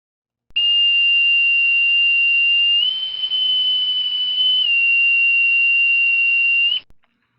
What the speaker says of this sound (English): What you just heard was the sound of the bosun's mate pipe